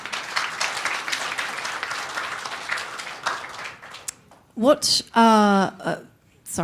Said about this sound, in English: Yeah, round of applause.